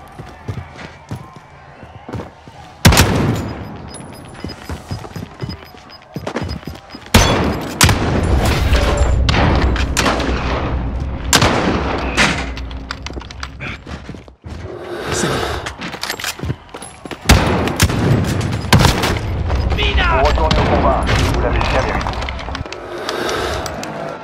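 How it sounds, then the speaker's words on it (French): Gunfire in the video game Call of Duty Warzone: loud, sharp shots and cracks in bursts, with sustained crackling volleys and impacts throughout, while a player speaks now and then over the fighting. "Il me tire dessus!"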